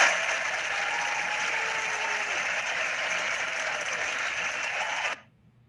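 An audience claps for a speaker in what sounds like an online session, a steady, even round of applause that stops abruptly near the end and is followed by near silence.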